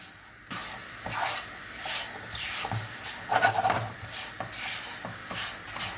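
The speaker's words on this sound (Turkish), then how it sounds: "Bu aşamada irmik koyu kıvamı alana kadar, koyu rengi alana kadar karıştırıyorum." Semolina being stirred in a pot for pumpkin semolina helva, a spoon scraping and rasping in repeated close strokes over a soft sizzle, with no talking.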